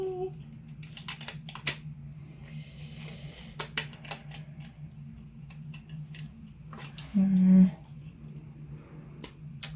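Snipping and prying at support material on a Sculpto 3D printed part makes a scatter of small, sharp plastic clicks and cuts close by, irregular and spaced out, with a brief louder scrape near the end.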